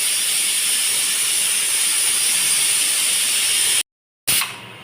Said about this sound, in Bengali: আমার ডাল সিটি দিচ্ছে